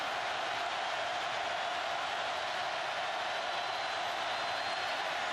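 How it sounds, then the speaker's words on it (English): A packed stadium crowd at the 2010 Alabama vs. Tennessee college football game, roaring in a steady, unbroken wash of noise early in the first quarter with the Volunteers ahead. "this crowd is wild with their Volunteers up by a touchdown here in the first quarter"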